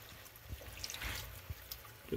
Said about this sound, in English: So we're pouring our coconut milk straight from the can,